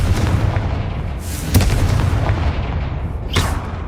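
Confringo fire-blast spell explosions in Hogwarts Legacy amid debris: two sharp booming blasts about two seconds apart over a loud, rumbling low background, close and forceful.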